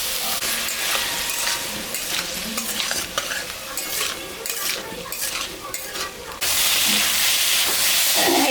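Ash gourd chunks with salt and turmeric stirred and frying in a pan, with a steady sizzle, intermittent scraping of a spatula against the metal, and a louder burst of hissing near the end.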